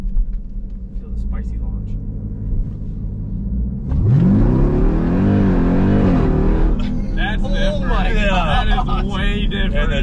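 A modified, supercharged Jeep Trackhawk launches hard on street asphalt, its engine note rising in a loud sweeping roar after a low idle rumble, with excited voices in the car over the noise.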